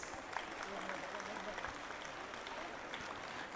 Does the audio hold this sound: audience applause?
yes